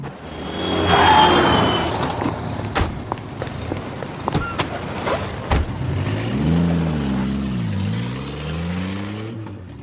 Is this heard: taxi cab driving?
yes